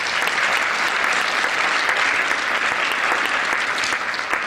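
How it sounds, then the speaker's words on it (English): An audience at an evening live magazine show in Chicago gives a round of applause, loud sustained clapping that stays even throughout. "Another round of applause for them"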